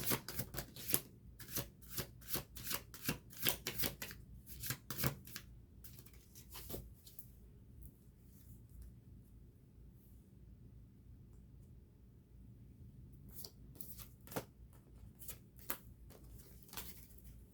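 Tarot cards being shuffled during a reading, giving dense bursts of riffling and flicking that come in quick runs, then a quiet pause, then a few more shuffles near the end, with no talking.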